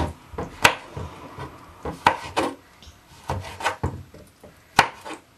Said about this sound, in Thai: ช่วยหั่นนะคะหั่นเป็นชิ้นเล็กๆ